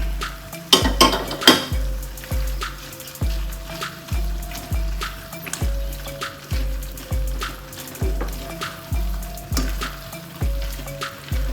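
Prepared egg cooking in a pan for chilli egg, with a steady sizzle under a regular rhythm of repeated utensil strokes against the pan, roughly every second, close and without talk.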